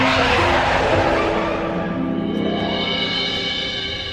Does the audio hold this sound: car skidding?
yes